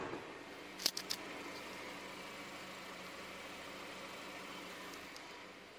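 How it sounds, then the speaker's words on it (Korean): A Chevrolet Impala 2.5 flagship sedan idles with its hood closed, giving a quiet, steady low hum throughout, broken early by a few brief sharp clicks. "이 정도의 엔진 소음 만나보실 수가 있습니다"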